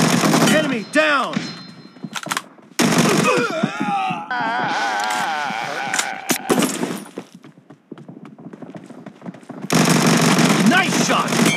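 Gunfire from the battle-royale game PUBG Mobile, bursts of shots and rattling automatic fire mixed with voices talking and shouting over the action.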